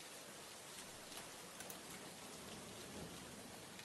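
Steady rain patters down onto an umbrella overhead, a dense, even hiss of drops with no voices, close and continuous throughout.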